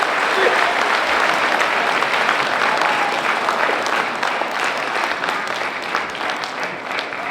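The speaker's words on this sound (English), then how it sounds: "Another round and louder applause for our keynote speaker." An audience claps for a keynote speaker at a Citizen National Guard gathering in the Philippines, dense steady applause from a large crowd, loud and sustained the whole time, easing off slightly toward the end.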